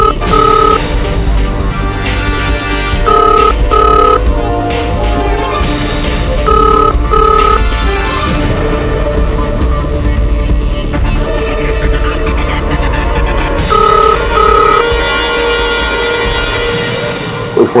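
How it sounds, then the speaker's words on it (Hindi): A telephone rings repeatedly in a steady pattern, going unanswered, over a dense, loud background of music or hum throughout, in a courtroom drama TV serial. "कोई फोन नहीं उठा रहा है।"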